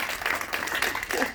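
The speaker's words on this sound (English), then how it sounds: "Let's give him a round of applause." Audience applause at a campaign kickoff event for a Minnesota House candidate, a short burst of crowd clapping at moderate volume with some voices mixed in.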